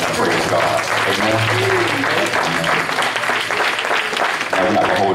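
Church congregation applauding loudly, a thick continuous clatter of clapping with voices calling out and murmuring underneath throughout.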